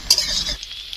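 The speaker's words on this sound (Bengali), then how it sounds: "কুদরি আর আলু ভাজা হয়ে গিয়েছে, এবার উপর থেকে আমি মশলাগুলো দিয়ে দেবো।" Ivy gourd and potatoes frying in a pan, a brief close sizzle with stirring scrapes that fades to a quiet hiss after about half a second.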